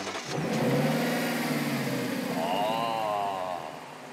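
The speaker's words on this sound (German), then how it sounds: "Mach an den Motor schon mal." A V8 engine of a Corvette C8 Stingray or Lexus LC 500 convertible cranks and catches, then settles into a loud, rising rumble with a revving tone, close by and without talk.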